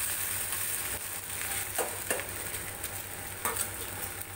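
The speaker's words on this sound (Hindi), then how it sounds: "अब मैं इसे टर्न कर दूंगी" Rawa cheela, a semolina pancake, fries in a pan with a steady close sizzle, broken by a few soft scraping taps as it is turned.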